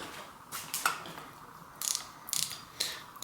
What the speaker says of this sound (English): Then use my 22mm socket here and kind of tighten these on.